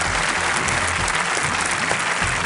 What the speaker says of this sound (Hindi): तालियों के साथ इनका स्वागत सर।